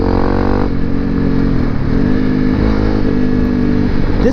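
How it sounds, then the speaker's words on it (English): A Honda CRF250L Rally motorcycle rides a dirt fire road, its single-cylinder engine droning loud and close at a fairly steady pitch with slight dips and swells, with faint clatter from the rough surface. "This bike does much better in this sort of road than on the trails because of the rear suspension."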